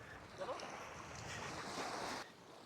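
Sea water sloshes around legs as someone wades along Dhublagadi sea beach in Odisha, with soft waves washing and wind rushing across the microphone in a brief, steady wash of sound.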